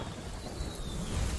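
Sharp Rain attack effect from the video game Temtem, a rumbling, rain-like burst of rushing noise with a thundery low swell that builds toward the end, heard alone without talk.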